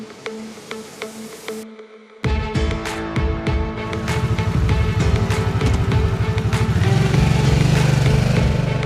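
A 2021 Harley-Davidson Sportster S motorcycle engine starts up after a brief silence and revs, its loud rumbling growl building steadily and staying close.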